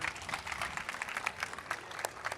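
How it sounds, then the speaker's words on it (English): Quiet, scattered applause from a small audience at a NAMM music trade show interview, brisk claps lasting a couple of seconds at a distance. "Could we get a round of applause for Deb right here?"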